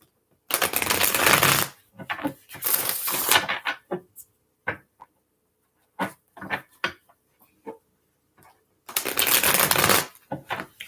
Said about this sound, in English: Give it a couple shuffles.